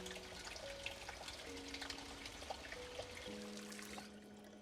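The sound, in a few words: filling a saucepan with water at a sink, Project Zomboid video game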